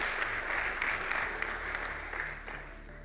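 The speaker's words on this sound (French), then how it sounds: "On applaudit Jacques Séby pour l'économie et le centre-ville." Audience applause at a municipal campaign rally in Montélimar, a steady wash of clapping from a crowd filling a hall for about three seconds at moderate level, with no voices over it.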